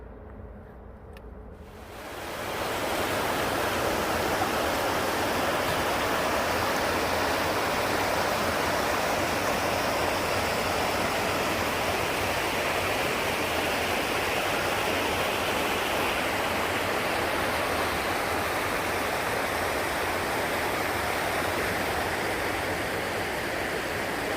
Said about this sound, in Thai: พาเพื่อน ๆ มาเที่ยวน้ำตกนะคะ